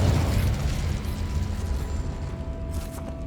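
A Confringo fire spell bursts in Hogwarts Legacy, a loud rumbling blast at the start that decays into a low, fading roar over a few seconds.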